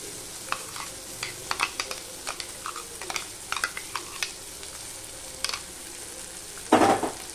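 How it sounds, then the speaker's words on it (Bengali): Spice paste for an Afghani egg curry being sautéed in a pan, a soft continuous sizzle under frequent scraping and clicking stirring strokes, ending with a louder burst of frying, no speech. "এই মশলাটা এবার আমি কষিয়ে নেব।"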